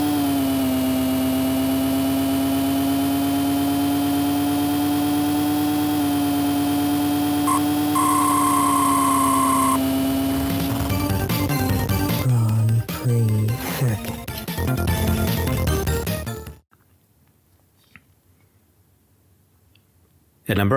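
Racing car engines in the Amiga game Grand Prix Circuit, with Ferrari, McLaren or Williams FW12 cars: a loud steady synthesized engine drone with a rising pitch shift, then busy revving and clicks before cutting to near silence.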